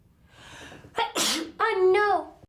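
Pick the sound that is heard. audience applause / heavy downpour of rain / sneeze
sneeze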